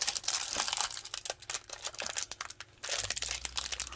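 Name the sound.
plastic bag being opened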